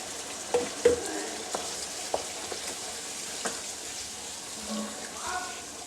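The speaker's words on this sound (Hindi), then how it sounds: "अब मैं इसमें ये प्याज और टमाटर का जो पेस्ट हमने ग्राइंड किया है उसको डाल दूंगी और इसको फिर से हम भून" Ground onion and tomato paste frying in a pan for a boneless chicken handi, with soft sizzling under scattered scrapes and clinks of a spoon stirring, fairly quiet and close.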